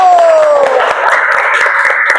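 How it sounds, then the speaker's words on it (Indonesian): A university class gives a burst of sharp, close hand claps for a classmate coming forward to present. Voices chatter over the clapping. "Yuk kita tepuk tangan"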